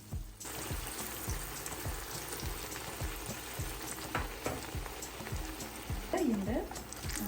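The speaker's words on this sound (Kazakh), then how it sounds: "Сол себепті орташа немесе орташадан төмен отта қуырасыздар" Breaded eggplant slices fry in oil in a pan over medium-low heat, giving a steady, close sizzle with crackling pops throughout, while a voice briefly sounds near the end.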